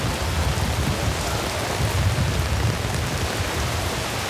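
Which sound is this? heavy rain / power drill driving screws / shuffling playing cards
heavy rain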